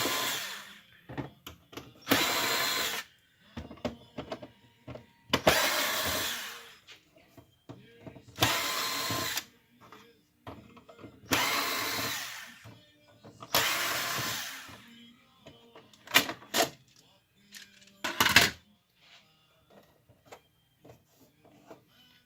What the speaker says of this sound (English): We're going to take these screws out.